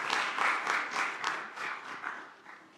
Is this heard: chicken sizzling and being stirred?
no